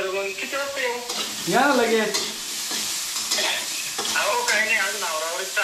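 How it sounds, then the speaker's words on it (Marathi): Dry potato and pea masala frying in a pan for puri bhaji, a close sizzle with spatula scrapes and stirring knocks, while people talk over it throughout. "आता फ्राय चालू आहे सुका"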